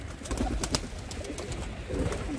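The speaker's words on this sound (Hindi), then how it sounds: "अभी जो है मैं अपने ये कबूतरों को भी बाहर खोल देता हूँ" Pet pigeons in a netted enclosure coo as they are let out: low, soft, rolling coos repeating close by, with light rustling and no speech.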